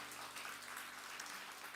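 A church congregation at a Sunday worship service gives a sustained, even round of applause, soft and somewhat distant, with no talking and a faint low hum beneath.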